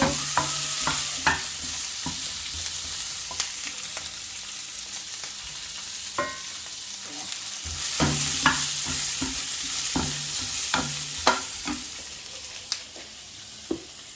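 Onion and pak choy stir-frying in a pan for a vegetable stir fry, with a steady close sizzle broken by frequent sharp scrapes and clacks of a utensil tossing the vegetables, no talking.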